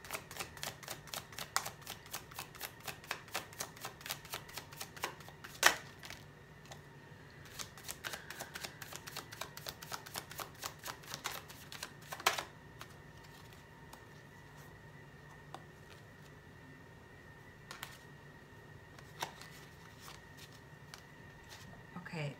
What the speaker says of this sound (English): I was shuffling the cards reversed